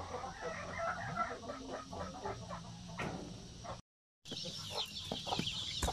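A hen with a brood of about 13 chicks clucking in a farmyard, soft repeated clucks and faint cheeping over a steady background hiss, with a brief dropout near the end.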